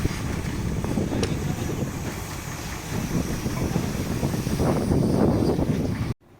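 Seaside wind gusting hard across the microphone as a fishing boat is launched back into the sea after fifteen days ashore, a steady low rumble with rustling bursts, cutting off abruptly at the end.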